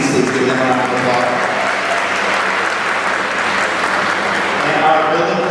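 An audience at a middle school promotion ceremony applauds office staff, with dense, loud clapping sustained evenly across the whole stretch.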